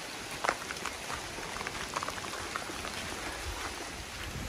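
Rain falls on a rural farm plot, a soft, even patter and hiss with scattered louder drops, fairly quiet and without talking.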